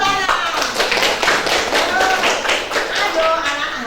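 A classroom of Indonesian schoolchildren claps together in a brisk, rhythmic burst, the loud hand claps repeating close by while a few voices chatter through it.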